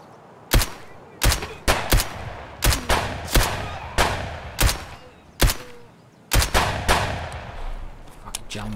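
Pistol shots fired at long range crack out one at a time, loud and close, about a dozen evenly spaced reports with faint ringing echoes between them.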